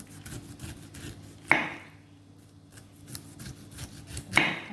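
A knife slices twice through pineapple skin a few seconds apart, each stroke a quick close scraping cut in a quiet room.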